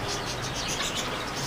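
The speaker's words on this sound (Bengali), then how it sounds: "অনেক রকম পাখি কিন্তু আপনারা দেখতে পাচ্ছেন এই দোকান থেকে।" Many birds chirp in a pet bird shop at a market in Tongi, a dense, steady layer of close tweets and calls over a busy background with no clear speech.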